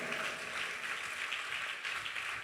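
A church congregation at Hosanna Mandir in Bhimavaram applauds together, a steady, fairly faint wash of many hands clapping that lasts a couple of seconds without speech.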